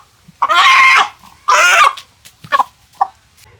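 A tiger breed hen clucks close by in a village yard, two loud drawn-out squawks followed by a few shorter, fainter clucks, with no one speaking.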